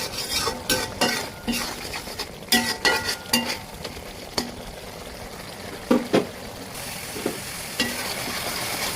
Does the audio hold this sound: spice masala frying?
yes